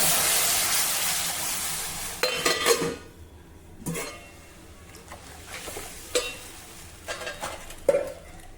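A spoon stirs kadhi in a pot over medium-high heat, with curry leaves and crushed cloves in the mix. Irregular scraping and clinking strokes come close and clear over a soft steady sizzle.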